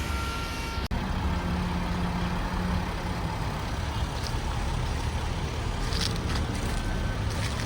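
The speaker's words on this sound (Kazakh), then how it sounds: "Ал біз қазір арнайы көлікпен саяхаттаймыз." A special expedition vehicle driving on a caravan trip in Mongolia, its engine giving a steady, dense rumble with road and wind noise throughout, close and continuous, with no talk.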